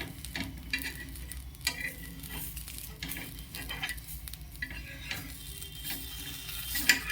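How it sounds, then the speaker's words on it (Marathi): A sandwich toasting on a plain flat griddle pan gives a low, steady sizzle with light scraping and clinks of a utensil against the pan, fairly quiet and continuous, with no one talking. "मी आपल्या साध्या तव्यावर हे तुम्हाला शेकून दाखवलंय"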